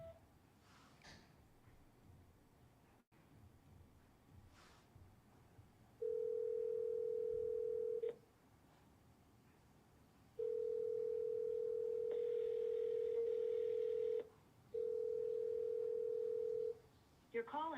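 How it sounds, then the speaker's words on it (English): A voicemail recording tone on a phone line sounds as three steady electronic beeps, one after another with short gaps, close and clear over faint line hiss. "At the tone, please record your message"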